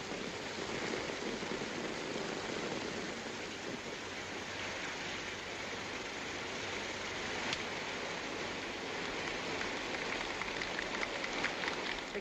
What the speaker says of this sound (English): The California skies had opened up. And through that day and the next, the rain kept coming down.